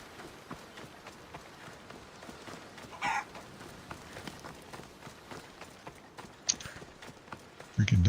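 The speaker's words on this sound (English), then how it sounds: "Freaking donkey just wandering around." A wandering donkey in the game Assassin's Creed Odyssey, its hooves clip-clopping in a steady run through a busy game soundscape, with a brief louder thump near the end.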